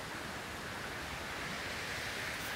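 Creek water rushes past a campsite in Squamish, British Columbia, making a steady, even hiss of flowing water with no breaks. It is soft and continuous, with no voices.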